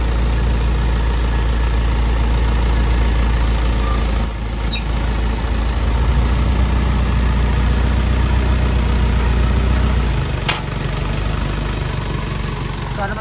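A self-loader truck's power take-off running with the engine idling: a loud, steady low rumble and hum that continues evenly, dropping slightly in pitch after about ten seconds, with no voices over it.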